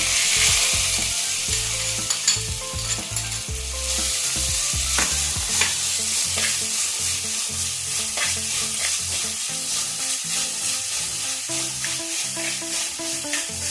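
Close, crackling sizzle of stone-crushed shallots and garlic frying in a pan for sardine chilli curry, with scraping and stirring clatter throughout and no talking.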